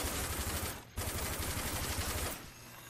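Sustained rapid gunfire from the video game Rage fills the clip, a dense automatic burst that breaks off briefly near one second, then resumes and thins toward the end.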